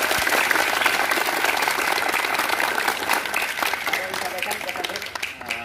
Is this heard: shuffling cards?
no